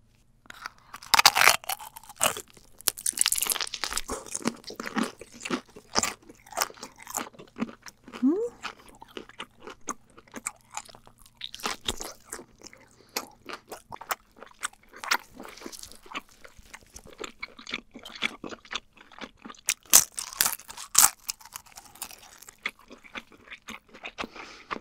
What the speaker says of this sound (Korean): 이게 과자는 되게 바삭바삭하잖아요? 문어는 촉촉해서 두 개가 되게 잘 어울리네.